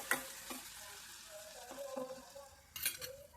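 Crushed garlic and cumin hit hot oil in a pan for a Maharashtrian tomato aamti, a faint close sizzle with a few light scrapes and clinks of a spoon stirring.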